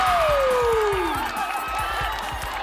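A high school audience from SMA 36 cheers and screams at a live show, a loud sustained roar of voices with a falling whoop and rhythmic clapping underneath.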